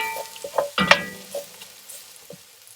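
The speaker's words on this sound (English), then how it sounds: "Stir that around." Flour is stirred into a sizzling pan of beef for boeuf bourguignon, a spoon scraping and clinking in a few close, quiet strokes over a soft, steady fry.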